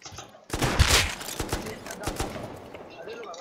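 Gunfire during a Rust raid defence, a dense volley of close shots followed by scattered, quicker cracks that thin out, with people talking over the shooting.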